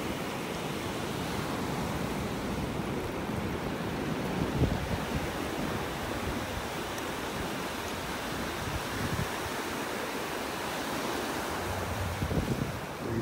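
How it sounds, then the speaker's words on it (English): Ocean waves breaking on a beach in North Naples, Florida, a continuous loud wash of surf with wind noise buffeting the microphone and a few swells rising over the steady roar, no speech. "Waves are coming up fast here."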